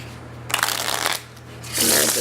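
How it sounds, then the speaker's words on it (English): A Discoverie deck of playing cards is shuffled up close, giving a quick riffle of paper flicking followed by a brighter rushing cascade as the cards bridge together, short and crisp. "And there's the shuffle."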